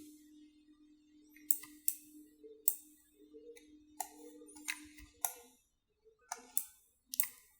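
Crisp mouse clicks from 3D house modeling in Cinema 4D, arriving in irregular single and double bursts, close and fairly quiet, over a faint steady hum.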